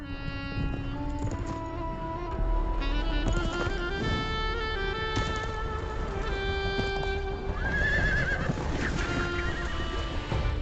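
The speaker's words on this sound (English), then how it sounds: "These strong Altai horses, although bred by herders," Altai horses bred by Kazakh herders neigh in several high whinnies over a dense bed of sound, with hoof clip-clops mixed in and no talking.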